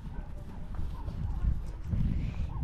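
Hooves of a horse being ridden clip-clop steadily through a continuous low rumble, with faint voices in the background.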